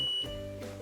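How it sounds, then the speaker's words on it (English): A stud finder beeps steadily as it is swept across an indoor wall, a single clear tone holding for a moment before cutting off, followed by faint room noise. "It'll continue beeping until we pass the stud."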